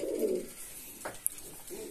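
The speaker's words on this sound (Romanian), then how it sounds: "După cum puteți auzi, porumbeii sunt uh, destul de activi." Pigeons in an aviary coo softly, with low murmuring calls repeating at moderate distance, along with a few faint clicks and rustles in the enclosure.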